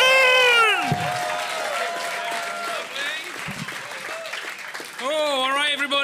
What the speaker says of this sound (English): Start the applause. Bring it around to him.